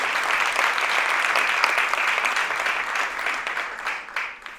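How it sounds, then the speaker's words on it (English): Sustained applause from an audience at a talk on inner and outer journeys, dense and steady throughout before thinning out at the end. "Can we have a huge round of applause for both of them?"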